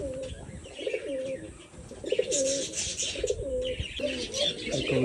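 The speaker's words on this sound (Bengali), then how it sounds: "এটা একটা আমার স্পেশাল কবুতরের বাচ্চা।" Pigeons at a village loft coo in repeated low, rounded phrases, each lasting about a second and recurring steadily. Brighter chirps and rustling fill the background close by.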